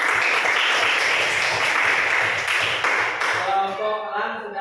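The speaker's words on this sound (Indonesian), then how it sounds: "Tepuk tangan buat kelompok harimau" A classroom of students applauding a student group, a dense burst of clapping from many hands that fades out near the end as a voice and some tones come through.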